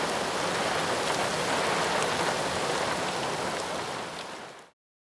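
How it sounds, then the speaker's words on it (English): Heavy rain and hail from a supercell thunderstorm roar as a dense, steady wash of loud broadband noise, holding constant before fading out near the end. "producing heavy rain, those hailstones"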